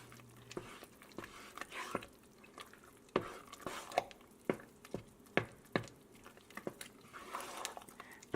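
Macaroni and cheese being stirred and broken up in a pot: soft, moist squishing and scraping with irregular sharp utensil clicks against the pot, fairly quiet and close, with no talking.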